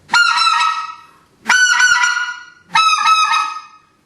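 A specklebelly goose call blown by hand gives three loud, close, drawn-out honking notes in a steady rhythm, each fading off before the next, with no talking.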